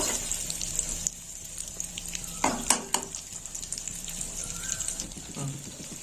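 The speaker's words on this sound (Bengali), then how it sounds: "এবার আমি খোয়া ক্ষীরগুলো একটু ভেজে নেব" Khoya kheer frying in ghee in a pan, a steady soft sizzle throughout with a few brief louder stirring scrapes midway, close and continuous.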